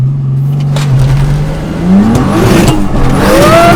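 A turbocharged BMW E30 launches and accelerates hard, engine note climbing steeply through the revs with a whirring rise and a shift, loud and close from inside the car.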